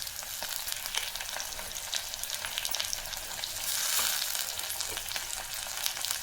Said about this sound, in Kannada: ಒಂದೇ ಒಂದು ನಿಮಿಷ ಇದನ್ನು ಸಬ್ಬಕ್ಕಿನ ಚೆನ್ನಾಗಿ ಎಣ್ಣೆಯಲ್ಲಿ ನಾವು ಫ್ರೈ ಮಾಡ್ಕೋಬೇಕು